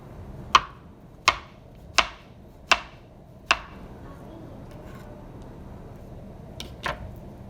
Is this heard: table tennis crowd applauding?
no